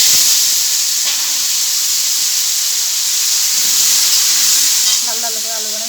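Potatoes frying in oil in a home kitchen pan, a steady broad hiss and sizzle running close and loud throughout, with a faint voice-like tonal sound near the end.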